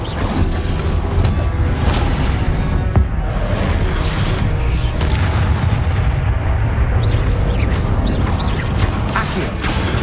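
The Incendio fire spell is cast in Hogwarts Legacy gameplay, and loud continuous whooshing, booming and crackling magical combat effects fill the stretch densely, with no clear talk.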